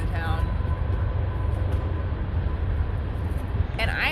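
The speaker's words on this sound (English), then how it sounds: "And I like the sound of the train." A train passing through a small town heard from a back yard, a steady loud low rumble with rolling rail noise throughout and no talking.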